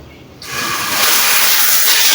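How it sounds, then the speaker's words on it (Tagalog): A shower on a second floor fed from an overhead tank switches on with a sudden steady hiss of spraying water that swells and holds strong, close by with no talking. "At yan yung shower."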